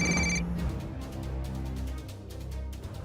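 A telephone rings in a home drama scene, a short bright electronic ring burst at the start followed by softer repeated ringing pulses, close and clear with no talk.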